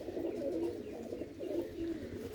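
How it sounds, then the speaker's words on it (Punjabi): Pigeons coo on a loft, a steady, soft run of low, throaty calls that overlap and rise and fall without a break for the whole stretch, close by. "ਇਹ ਹੈ ਆਪਣੇ ਕੁਝ ਨਵੇਂ ਬੱਚੇ ਤੇ ਵੱਡੀਆਂ ਕਬੂਤਰੀਆਂ ਜਿਹੜੀਆਂ ਤੁਸੀਂ ਦੇਖ ਰਹੇ ਹੋ"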